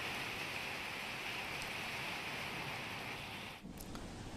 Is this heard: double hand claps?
no